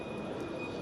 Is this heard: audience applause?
no